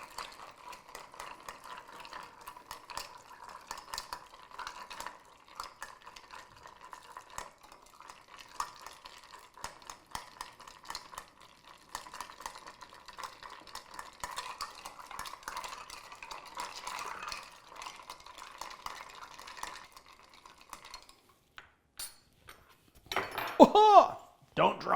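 A Tailspin cocktail being stirred with a bar spoon over ice in a mixing glass, a steady soft clinking and swirling for about twenty seconds, ending in a few louder knocks and a brief pause.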